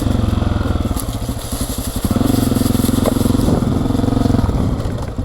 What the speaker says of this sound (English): Hit the rev limiter.